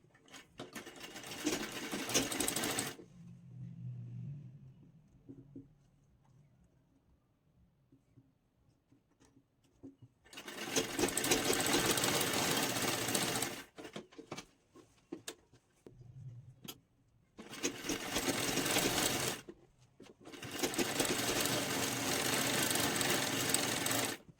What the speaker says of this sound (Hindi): तो यहाँ से हमें स्टिच लगा के इस तरह से इसको कंप्लीट कर लेना है।